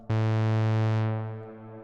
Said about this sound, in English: here the reverb is untouched. It's super crystal clear.